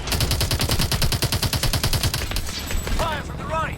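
Rapid automatic gunfire in the video game Call of Duty: Advanced Warfare hammers out in an even, fast rhythm for over two seconds. Looser shots and a few whistling effects follow in a loud combat scene.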